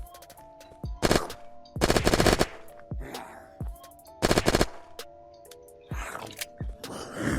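Tommy Gun bursts in the survival video game Unturned, three loud rapid-fire volleys of automatic shots close up, separated by quieter stretches of in-game background noise.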